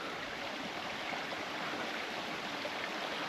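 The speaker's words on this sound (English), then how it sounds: "back there is the waterfall" Waterfall near Top Withens on the moors, heard as a steady, even broadband rush of falling water that stays constant throughout, with no voices.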